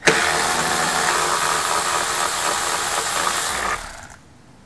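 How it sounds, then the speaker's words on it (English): A cordless electric ratchet whirs continuously at close range while backing out a 10 mm bolt on a car's HID headlight assembly, steady and loud for about four seconds before cutting off abruptly. "Of course, I'm gonna use my electric ratchet. This 10 millimeter gets removed."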